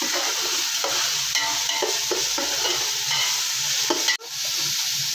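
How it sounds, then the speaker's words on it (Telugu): Masala of ginger, garlic, tomato and onion frying in a pan for chicken palav, giving a steady close sizzle with intermittent stirring scrapes throughout and a brief break near the end. "టమాటా ఆనియన్ బాగా వేసుకోవాలి. మసాలా అంతా వేగాలి."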